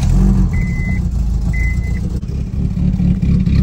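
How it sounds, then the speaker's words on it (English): A Honda K20-swapped car with new exhaust headers runs at a steady, close, low rumble, with two short electronic beeps sounding over it and no talking. "Let's give it a rev. Oh yeah, it's nice and quiet now."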